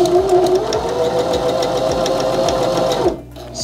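A Baby Lock sewing machine runs steadily while stitching a buttonhole, loud and close with a rapid, even mechanical chatter, then stops abruptly near the end.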